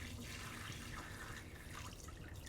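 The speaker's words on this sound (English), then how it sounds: "let's decant this so you can see exactly in this water how much was purged from the clams." Purging water from clams being poured into a bowl for spaghetti alle vongole, a steady close liquid pour and splash running continuously without talk.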